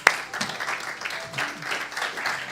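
A church congregation applauds at a Sunday service, a short burst of mixed clapping from many hands after a sharp opening clap, moderately loud and steady for a couple of seconds.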